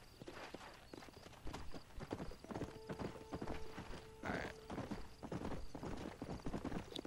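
Horse hooves gallop in steady clip-clop rhythm across open ground in the video game Red Dead Redemption, with an occasional whinny and a faint voice underneath.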